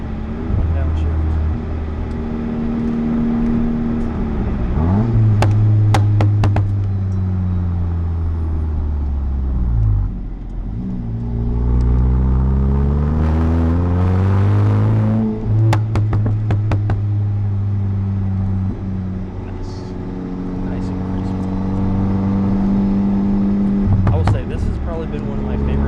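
A Volkswagen Mk8 running Unitronic software revs hard through the gears, its engine note climbing steeply, dropping with a downshift and pulling up again in repeated loud sweeps, heard from outside the car with road noise and sharp pops between pulls.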